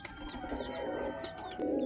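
Pigeons coo softly and continuously in a loft, with a louder burst of cooing near the end against a steady low background hum.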